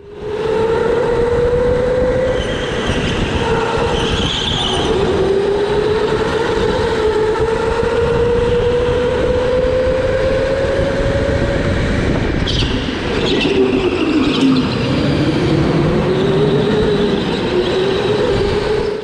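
A rental go-kart runs laps on the Monaco track at Autobahn Indoor Speedway in Jacksonville, Florida. Its engine gives a steady, close drone whose pitch climbs and dips through the corners, with no talking.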